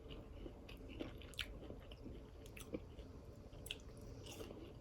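Someone bites and chews crunchy fried catfish close up, with quiet rhythmic crunches and soft squishy chewing repeating over several seconds.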